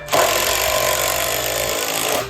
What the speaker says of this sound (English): go ahead and put 4 deck screws on each side